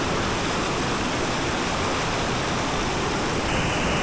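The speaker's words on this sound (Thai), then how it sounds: "เห็นน้ำตกข้างบนนู้นเลย" A waterfall in Mae Hong Son roars as a steady, dense wash of rushing water, loud and close, continuous throughout with no voices.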